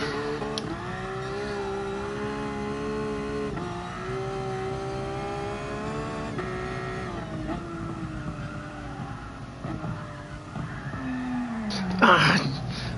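A car engine in a GT Sport drift challenge on the Nordschleife holds a steady, droning rev that rises and falls as the car slides, ending in a sharp burst of noise near the close.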